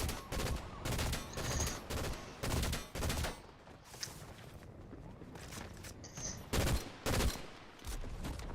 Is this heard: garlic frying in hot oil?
no